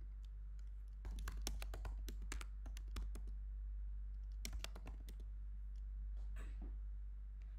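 A username and password are typed on a computer keyboard in quick bursts of crisp key clicks with short pauses between them, close and fairly quiet over a low steady hum.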